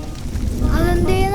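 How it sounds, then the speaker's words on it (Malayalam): Heavy rain pours in a steady loud hiss, with a low rumble beneath and a rising tonal sound near the end, at close range. "അതേ നല്ല മഴ തന്നെട്ടാ"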